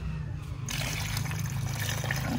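Water pours into a homemade beer and MSG plant fertilizer mix, a steady close splashing and trickling that swells after a soft start and then runs continuously.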